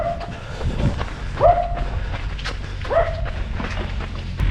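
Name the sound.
dogs barking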